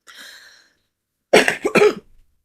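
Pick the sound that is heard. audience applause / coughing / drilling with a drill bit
coughing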